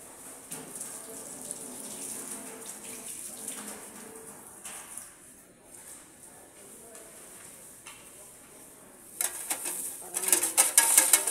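Running tap water splashes steadily while something is rinsed at a sink during preparation of a Vimto and mango juice drink, with a voice talking quietly over it and the flow growing louder and hissier toward the end.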